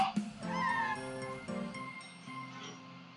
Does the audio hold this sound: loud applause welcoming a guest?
no